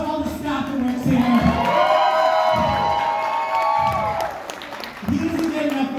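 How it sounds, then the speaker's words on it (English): A crowd of staff-honoring attendees at a curtain call breaks into loud applause and cheering with whoops, sustained for several seconds, while a voice keeps talking over the noise at start and end. "one more thunderous applause for all the staff that works here."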